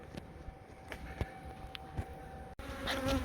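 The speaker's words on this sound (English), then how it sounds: "There are some bees flying around." Bees buzz around nearby at a quarantine apiary after a church beehive relocation, their hum rising and fading as individuals pass close, with a few soft knocks in the background.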